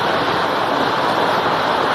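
Heavy microburst downpour crashing from a cumulonimbus cloud onto Wibawa Mukti Stadium in Bekasi, a dense, steady roar of water that fills the whole two seconds with no breaks and no voices.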